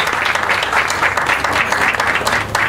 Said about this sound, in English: Let's give these folks a round of applause